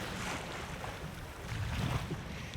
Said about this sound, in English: There's just waves.